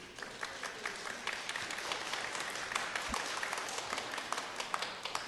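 An audience in a city committee chamber claps after a public speaker finishes, a continuous, fairly even spread of handclaps sustained throughout, close and moderately loud.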